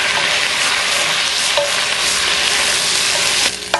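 Beef sizzles loudly in a hot pan while browning for rendang, a dense, steady hiss and crackle held close, with faint scraping of stirring and a brief dip near the end.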